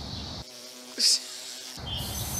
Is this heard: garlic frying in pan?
no